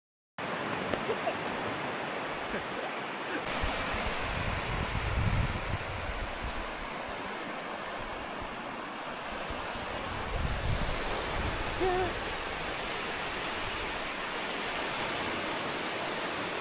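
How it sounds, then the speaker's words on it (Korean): Ocean waves wash steadily onto the shore of Goto island, Nagasaki, under cloudy skies: a continuous broad roar of surf with gentle swells, mixed with some wind, close and alone without voices. "깨끗한 파도 소리가 듣기 좋았습니다"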